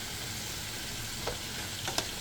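Fish frying in a pan of hot oil gives a steady, soft sizzle with a few brief stirring clicks and scrapes near the end, close and alone.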